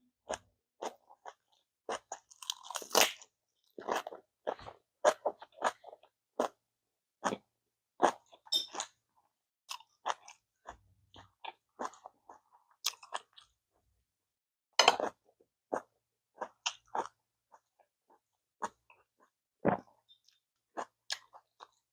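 Close, wet chewing and crunching of kimchi bossam wrapped with Tongyeong oysters and salted hairtail innards, sounding as irregular bites and mouth noises with quiet pauses between them, no talking.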